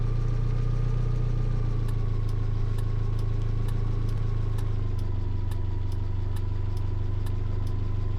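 An Ursus tractor engine runs in the Farming Simulator video game, a steady, loud, low diesel drone with a faint regular ticking on top that continues unbroken, with no speech.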